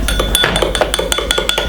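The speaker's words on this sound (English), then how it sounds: "Give it a lovely whisk" A whisk clinks rapidly against a glass of cinnamon tea, a close run of about a dozen evenly spaced bright taps with no talking.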